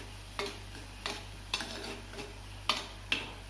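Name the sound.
stirring boiling fish dish in pan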